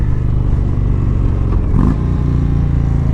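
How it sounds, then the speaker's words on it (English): A 2017 Indian Springfield bagger motorcycle engine rumbles steadily, then gives a quick rev blip and settles back as it downshifts, close and fairly loud. "That was a really smooth downshift."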